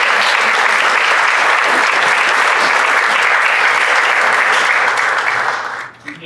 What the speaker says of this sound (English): That one deserves a round of applause.